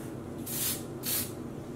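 Wilton's Color Mist spray food coloring misted onto yarn in two short, airy hissing bursts with a brief pause between them, soft and close, with no talking.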